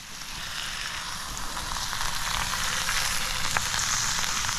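Steak frying in a pan at a wild camp in heavy rain, a steady close sizzle that holds at an even level throughout with no talk.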